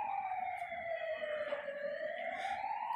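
A fire brigade truck's siren wails at a distance during a fire in slum dwellings in Tughlakabad village, one long sweeping tone that falls and rises again, faint but clear.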